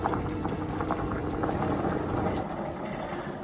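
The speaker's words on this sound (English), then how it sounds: "The stew mix is boiling right now" Beef stew bubbling at a rolling boil in a pot, a dense continuous burble of popping bubbles close up, steady throughout with no talking.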